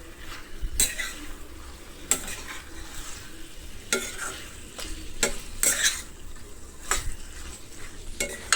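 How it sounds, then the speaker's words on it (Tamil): Chicken being stirred into frying masala in a pan for a chicken fry, with sharp utensil scrapes and clinks at irregular intervals over a constant close sizzle, no voices. "சிக்கனை சேர்த்த பிறகு இந்த மசாலாவும் இந்த சிக்கனும் நல்லா ஒன்றோட ஒன்று நல்லா மிக்ஸ் ஆகிற அளவுக்கு நல்லா கலந்து விட்டுக்கணும்"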